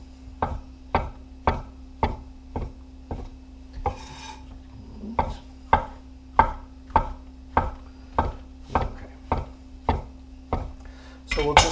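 Knife strokes slice through shiitake mushrooms on a cutting board, with about twenty sharp, evenly spaced close taps and a brief scraping shuffle partway through.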